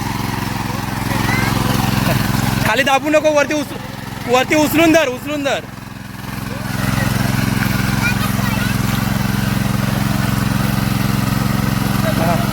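A tractor engine runs steadily at close range on a farm field in Konkan, Ratnagiri, a constant low drone that briefly dips while people talk over it, then resumes alone.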